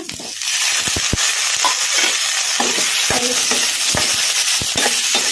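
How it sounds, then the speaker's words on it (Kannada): Onion, green chilli and tomato frying in a pan over a medium flame for masala puri, a steady broadband sizzle throughout with scattered stirring scrapes and clicks of a spoon. "ಟೊಮೊಟೊ ಮೆತ್ತಗಾಗೋವರೆಗೂ ಫ್ರೈ ಮಾಡ್ಕೊಂಬಿಡೋಣ ಮೀಡಿಯಮ್ ಫ್ಲೇಮಲ್ಲಿ"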